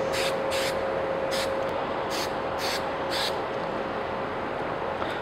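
Spray adhesive (77) hisses from an aerosol can onto foam for costume horns in several short bursts, under a constant background hum.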